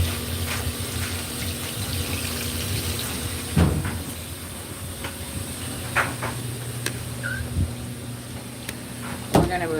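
Water runs steadily from a tap into a sink while blankets are washed at home, a continuous hiss broken by occasional clunks and knocks nearby.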